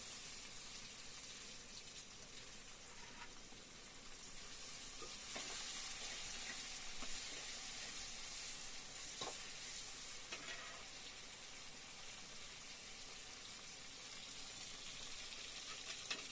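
Onion, ginger and garlic sautéing in a pan for a Tamil tamarind yam curry, a soft continuous sizzle with occasional stirring scrapes, faint and steady throughout with no talking.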